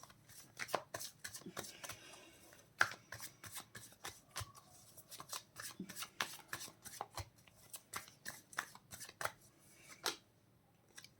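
Osho Zen tarot cards being shuffled by hand in quick, irregular bursts of crisp riffling snaps and flutters, close and fairly quiet, with brief pauses between runs.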